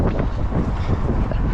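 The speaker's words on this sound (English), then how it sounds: "But even now, it's been a bit windy." Steady wind buffets the microphone at a busy outdoor car park, a continuous broadband rumble and roar with no pauses, close and fairly loud throughout.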